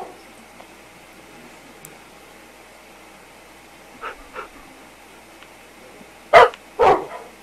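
Dogs bark in the Minecraft video game on Xbox 360: a couple of faint yips, then two louder barks close together near the end, over quiet background noise.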